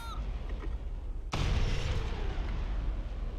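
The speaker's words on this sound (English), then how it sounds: "hey, that's the sound of rockets coming out." Rockets launching in the War Thunder air-combat game: one sudden loud blast that stays as a sustained roaring rush for a couple of seconds, all against a steady engine drone.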